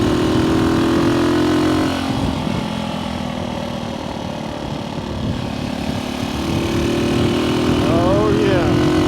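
A vintage 1964 Honda C200 motorcycle engine droning loud and steady while riding, with heavy wind rumble and a slight dip and rise in revs.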